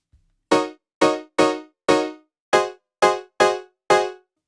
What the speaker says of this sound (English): And that preset is called Piano Mod Forte, and it's from Splice's Serum presets.